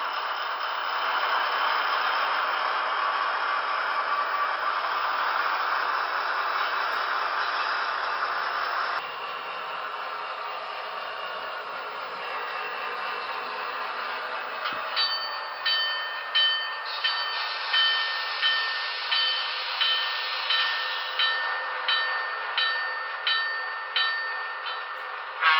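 A Broadway Limited model train locomotive with onboard sound runs steadily, a continuous rumbling drone joined midway by a regular series of chuffing pulses, clear and close with no talk.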